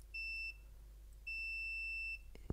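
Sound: multimeter beep testing continuity in diode mode

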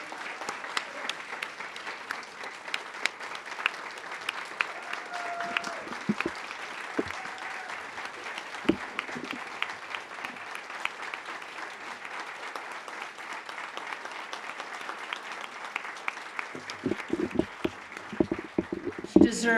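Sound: audience round of applause

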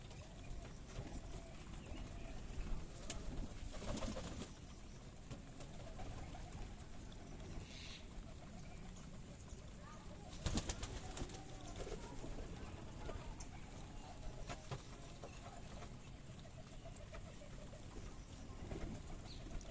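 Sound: pigeons cooing at a pigeon farm

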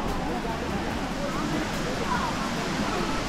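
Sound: waterfall at Guanyin Falls, Chiayi

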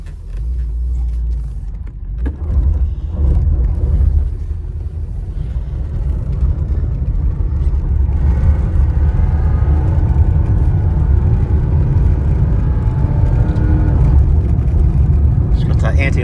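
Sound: Mercedes-Benz car driving, engine running

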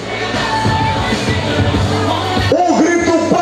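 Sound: crowd cheering and shouting at pageant

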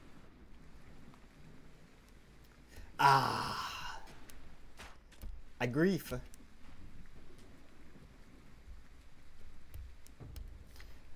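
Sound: thunderstorm with rain and lightning in the video game Wartales

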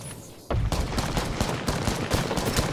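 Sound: gunfire in video game Apex Legends

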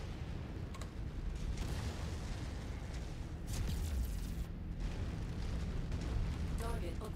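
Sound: explosion of a destroyed enemy vehicle in MechWarrior 5 video game

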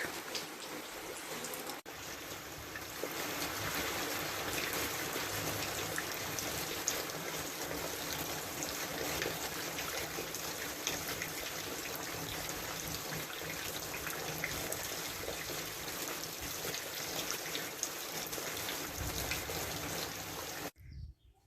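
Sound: rain falling

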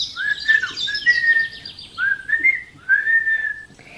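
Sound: whistling a tune

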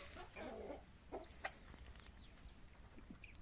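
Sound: roosters clucking

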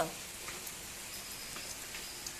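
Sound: rain falling

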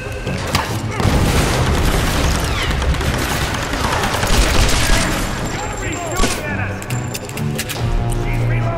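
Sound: explosions and gunfire in video game Tomb Raider

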